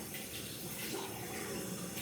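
Cold water runs steadily from a tap while a wig is washed, a continuous even rush of splashing flow with no talk over it.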